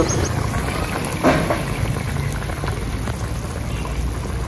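Sour mango and snakehead fish curry bubbling in a pot on the stove, a steady close boil with dense liquid bubbling and faint popping throughout, no voices.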